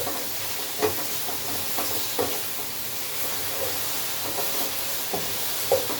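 Sliced turai (ridge gourd) tipped into a hot pan with ginger and garlic, a soft steady sizzle with a few faint clinks and stirring taps, fairly quiet and close.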